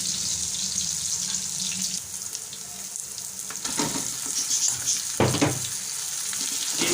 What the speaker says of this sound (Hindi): मैं इसको अच्छी तरीके से करेंगे फ्राई ऑयल में और प्याज और अदरक लहसुन के अंदर